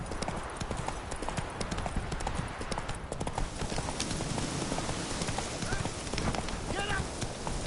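Hooves of the horse Roach clip-clopping in a video game, a steady brisk run of close hoofbeats through the whole stretch, with voices talking over it.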